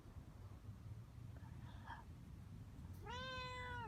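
A house cat gives a single clear, drawn-out meow near the end, close and fairly loud, after soft faint rustling in a quiet room.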